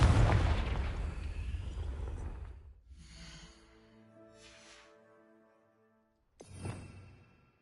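A Confringo fire spell goes off in Hogwarts Legacy, opening with a loud, deep blast that fades over a few seconds. Quieter magical shimmers follow, then a short second burst near the end.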